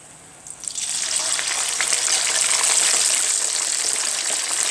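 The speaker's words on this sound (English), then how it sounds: "quick deep fry for about 2 to 4 minutes in the very hot oil" Food deep frying in very hot oil for a beef, okra and aubergine stew, a loud steady sizzle that bursts in after half a second and holds dense and bubbling throughout, with no voices.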